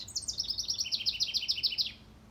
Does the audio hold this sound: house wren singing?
yes